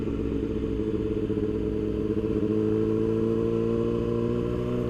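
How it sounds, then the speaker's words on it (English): A Yamaha R6 sport motorcycle engine while riding, a steady mid-pitched drone with a slight rise in revs partway through, close and continuous, with no talk. "Yo, this bike sounds so good"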